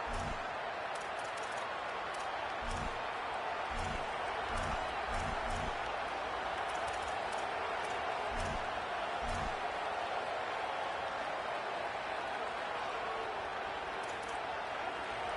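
A stadium crowd roars throughout a Clemson versus Auburn college football video game, a dense steady wall of cheering noise with scattered thumps and claps punctuating it.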